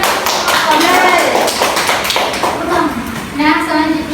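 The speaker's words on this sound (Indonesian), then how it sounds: "Beri tepuk tangan." A classroom of students claps hands together in a brief round of applause, the patter continuous and close while a teacher's voice and children's chatter carry on over it.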